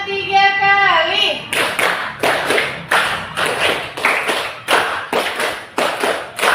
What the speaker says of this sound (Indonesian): tepuk 5 3 kali.